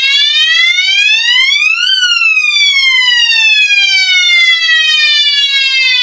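A loud electronic police siren from a children's toy wails up and down in a smooth sweeping tone. It is heard close and alone, with steady volume throughout and no voices.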